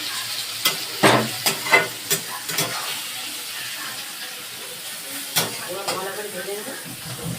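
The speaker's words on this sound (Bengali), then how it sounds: "ভালো করে এটাকে ভেজে নাও।" Kochu (taro) flowers' base with tomato frying in a pan as a spatula scrapes and stirs, giving a run of sharp scraping strokes over a steady sizzle, with quieter scrapes near the end.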